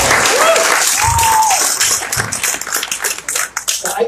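A debate audience in Washington's 8th Congressional District breaks into loud, dense applause that thins into scattered claps, with a voice speaking over the start.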